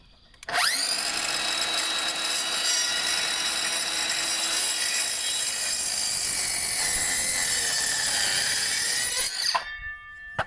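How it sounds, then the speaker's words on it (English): A power saw cutting a timber beam for a light-framed pergola: the motor spins up to a steady, loud, harmonic whine held for about nine seconds, then winds down and stops near the end. "What I can do is measure across there now and cut that one."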